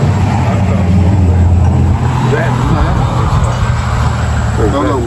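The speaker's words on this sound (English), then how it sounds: "That truck coming down through there messed our audio up." A truck rolls down a rural road in a hollow, a loud, sustained engine and tire roar passing close by while people talk over it.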